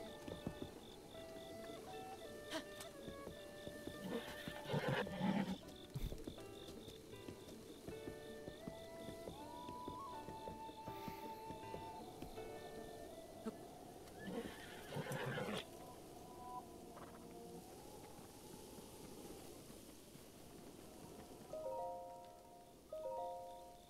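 A large horse in Zelda: Breath of the Wild neighs briefly amid soft game music and ambient tones, with a few hoof clops and ringing chimes scattered across the stretch.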